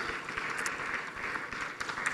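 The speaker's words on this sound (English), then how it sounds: "let's just give each other a big round of applause." Applause fills a conference hall at the close of an Africa energy summit, a steady dense clapping from the audience that carries on throughout at moderate loudness.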